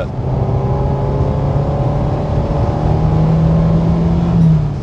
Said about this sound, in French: le bruit de l'échappement est vraiment sympathique